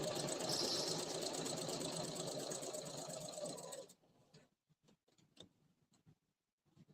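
A sewing machine basts a facing in place, running in a steady, fast, loud stitching whir for about four seconds before stopping, followed by faint scattered clicks and handling noises.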